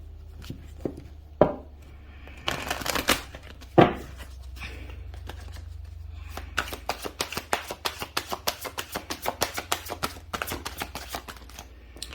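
Tarot cards riffled and shuffled at close range, a few soft bursts followed by a long run of rapid crisp flicks, no voices.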